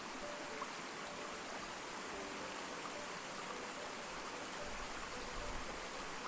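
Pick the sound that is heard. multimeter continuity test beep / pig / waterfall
waterfall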